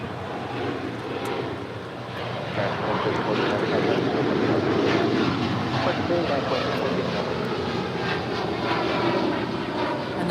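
A United Airlines Boeing 787-10 Dreamliner's jet engines roar steadily at Los Angeles airport, a broad moderate rumble that swells slightly mid-way and holds, with faint background murmur.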